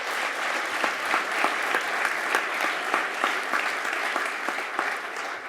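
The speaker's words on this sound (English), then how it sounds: "So please give them a round of applause." An audience applauds a leadership team at a veterans' council event, a dense, steady round of clapping from a medium-sized crowd that holds for several seconds without letting up.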